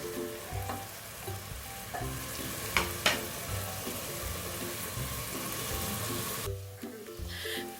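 Onions browning for dal makhani sizzle and crackle steadily in a hot pan, with occasional stirring clinks and scrapes, moderately quiet and close.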